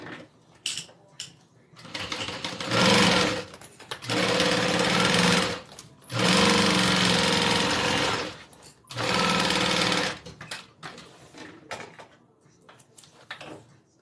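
A sewing machine stitches the sides of a faux leather wallet in three long, loud, steady runs of rapid mechanical chatter. Between the runs come short pauses filled with small clicks and handling noises.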